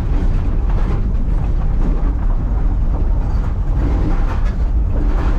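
Loose parts rattle in the back of a 1967 Cadillac that sat for 15 years, heard as a continuous loud rumbling clatter over heavy road and drivetrain noise while driving, with no talk.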